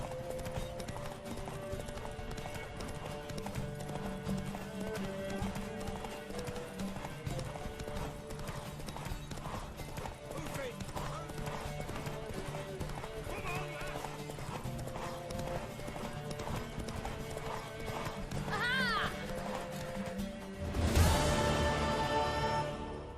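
Rhythmic clip-clop of horse hooves in the Witcher 3 video game, steady over a musical background, followed by a loud horse whinny near the end.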